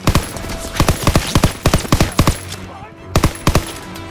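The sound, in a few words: machine gun firing from a hayloft in Call of Duty: WWII video game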